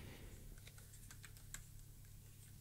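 A mechanical keyboard switch tester holding 72 switches of different brands gives soft, close, irregular clicks and clacks, quiet and intimate over a faint low hum.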